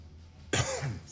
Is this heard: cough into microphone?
yes